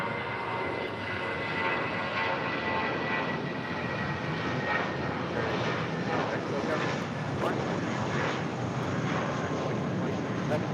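A fixed-wing airplane rolls for takeoff on runway 25 right, its engine roar steady and broad with wind-like hiss, while radio voices talk over it.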